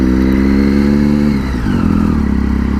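Motorcycle engine idling and revving in heavy, stalled road traffic, steady mid-pitched drone with a brief dip and a small throttle rise, close and loud with no talking.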